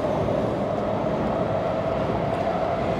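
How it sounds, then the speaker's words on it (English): A Shinkansen train runs over elevated tracks above a Tokyo street, giving a steady, loud, broad rumble with a faint tonal whine that holds evenly for three seconds and drowns out everything else. "you got to come under the train tracks where the Shinkansen is going through the monorail"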